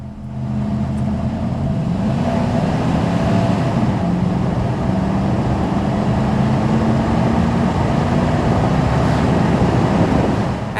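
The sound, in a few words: 1995 Chevrolet Suburban driving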